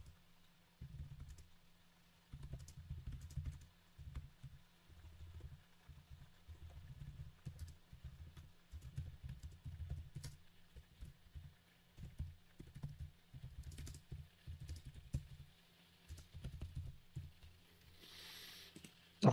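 Computer keyboard being typed on at a desk, close and fairly quiet, with bursts of rapid key clicks broken by short pauses.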